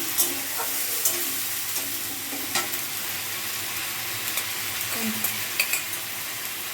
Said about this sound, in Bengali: পেস্ট করা এই রান্না হবে এটা নিরামিষ ডিম ভোনা ডিম হচ্ছে কষিয়ে নেবে মশলাটাকে একটু